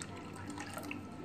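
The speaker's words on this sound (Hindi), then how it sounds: "ये थोड़ा थिक है, हम इसमें थोड़ा सा पानी डालेंगे" A little water trickles steadily from a vessel into a thick bottle gourd raita in a home kitchen, a brief, soft pour with faint dripping.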